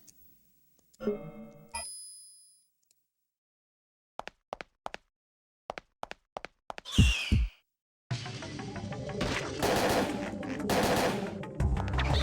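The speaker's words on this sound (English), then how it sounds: "Oh, we've got the assault rifle. I might give the assault rifle a go." Assault rifle fire in Parasite Eve II: a few sparse single shots, then a short burst, then sustained loud automatic fire mixed with heavy game noise, after chiming menu tones.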